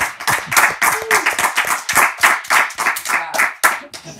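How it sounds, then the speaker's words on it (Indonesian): An audience in a television studio clapping to welcome a political analyst, sharp uneven bursts of clapping from a small crowd, close and loud, fading near the end. "Tepuk tangan buat Bapak Ray Rangkuti."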